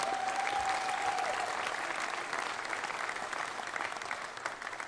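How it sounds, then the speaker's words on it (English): Audience applause at a University of Maryland event introducing a new men's basketball head coach, with steady dense clapping throughout, a few faint crowd sounds, and slight fading toward the end. "How about a round of applause for Gary?"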